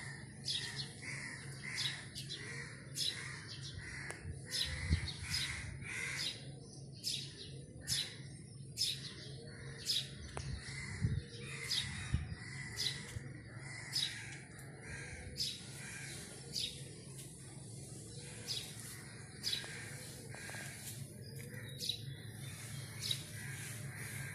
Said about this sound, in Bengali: কত কত পাখির ডাক